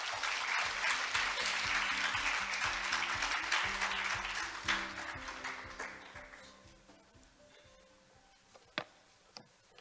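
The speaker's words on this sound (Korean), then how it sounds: "큰 박수로 환영해 주시기 바랍니다" A large audience at a youth jobs forum in Jeju applauds to welcome a speaker to the stage, dense clapping at first that gradually thins and fades, ending with a few scattered claps.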